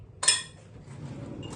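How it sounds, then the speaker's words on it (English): A spoon strikes a dish once with a bright, close clink, leaving a soft ringing tail and quiet kitchen room noise behind it. "Let me get a clean spoon."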